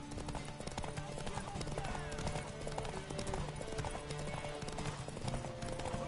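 Horse hooves clip-clop in steady rhythm in The Witcher 3 with a brief whinny, set under continuous game music and ambient noise, moderately close and fairly quiet.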